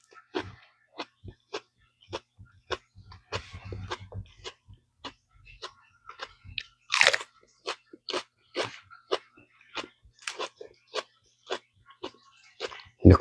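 Sharp, short crunches as teeth bite into a big yellow Crown Douglah chili pepper, a series of separate bites and chews spread across the stretch, close and fairly crisp, with a brief louder burst midway.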